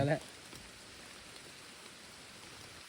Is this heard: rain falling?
yes